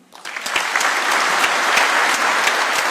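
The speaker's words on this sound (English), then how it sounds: "A warm round of applause for His Excellency." A conference audience at an international heritage authenticity event breaks into applause after a speech by President Ruto, rising quickly from a few claps to loud, sustained clapping with distinct individual hand claps.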